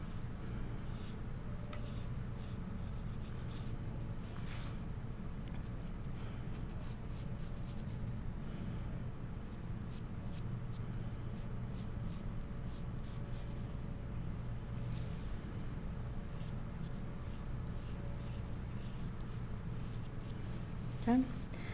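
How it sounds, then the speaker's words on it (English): White charcoal drawn across paper to form a square, a soft continuous scratchy rubbing with small strokes throughout, close and steady over a low background hum. "So I want you to start by drawing a square."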